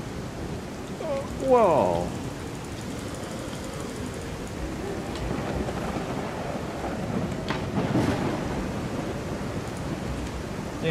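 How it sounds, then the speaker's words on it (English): Steady rain and rumbling thunder from a thunderstorm in the zombie survival game SurrounDead fill the background, with a louder roll near the end; a man briefly exclaims over it. "Can't hear anything except thunder and rain."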